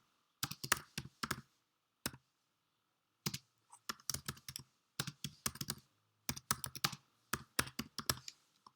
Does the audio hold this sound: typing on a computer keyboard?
yes